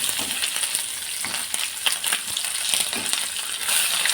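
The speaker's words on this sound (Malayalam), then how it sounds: "ഒരു സൈഡ് മൂത്ത് വന്ന് അടുത്ത സൈഡ് തിരിച്ചിട്ട് കൊടുക്കുകയാണ്" Anchovies frying in hot oil in a pan, Kerala style, with a constant bright sizzle broken by scraping and stirring clicks as the fish are turned, close and loud with no talking.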